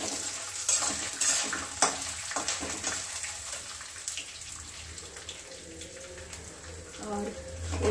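Green and red chillies, cut lengthwise, frying and being stirred with rice in a pan, giving a steady close sizzle with scraping stir strokes, alone without talk.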